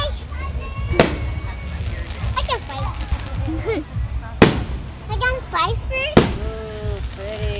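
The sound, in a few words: fireworks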